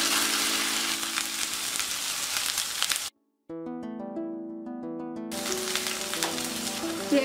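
Onion paste hits hot oil in a pan for chicken do pyaza, giving a bright crackling sizzle that is cut by a brief gap of tonal music before the frying resumes.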